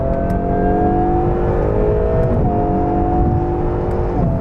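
A 2022 Acura NSX Type S supercar accelerates hard, its engine whining up loud and close, with quick gear changes breaking the rising pitch partway through.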